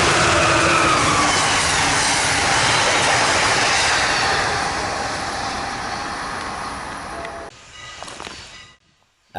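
An Amtrak Keystone service train led by an ACS-64 electric locomotive races past a rail interchange, a loud, sustained rushing roar close by that slowly fades before cutting off near the end.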